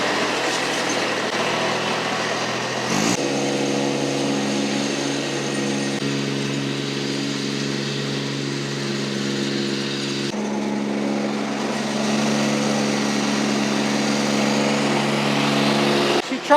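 A zero turn lawn mower's engine runs close by in a steady, loud drone that shifts pitch briefly at two points as the mower is driven around.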